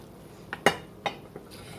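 Pinto beans with bacon being spooned from a pot into a casserole dish, a few close metallic clinks and scrapes of a utensil against cookware, spaced irregularly over a quiet background.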